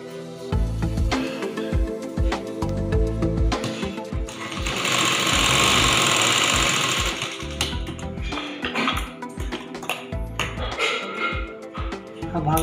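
A sewing machine stitches a katori blouse, chattering in quick rhythmic runs broken by short pauses, with one sustained burst midway, close and loud, with no speech.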